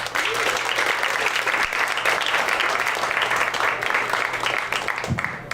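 A comedy club audience applauds and cheers steadily for a comedian taking the stage, dense clapping throughout with a few shouts mixed in.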